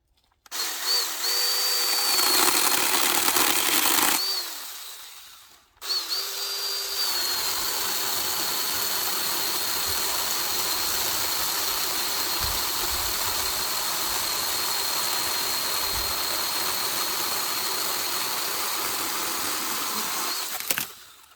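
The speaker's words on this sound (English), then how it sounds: "So let's see what this 8-inch battery operated trimmer is going to do." A RYOBI 18V battery pruning chainsaw with an 8-inch bar cuts through pine branches, its steady electric motor whine running loud and close, dropping out briefly partway through before resuming for a long continuous cut.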